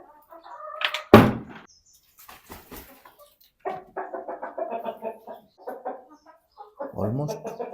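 Chickens in a coop, kept shut because of rain, give scattered clucks and short bursts of chatter, with one sharp squawk near the start, close by in an otherwise quiet space.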